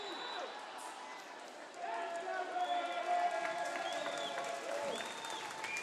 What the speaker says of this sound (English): Fabian Serta getting a nice little applause from the fans here.